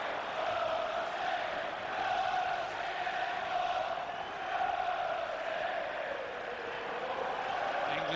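A large football crowd at a France versus England friendly in 2000 sends up a steady distant roar of singing and chanting, rising and falling gently, with a commentator talking over it.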